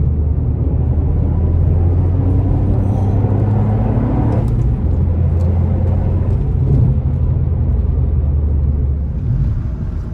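A four-wheel-drive Toyota Yaris GR hot hatch is driven hard on a track, its engine and road noise forming a loud, steady rumble that runs the whole way through with no talking.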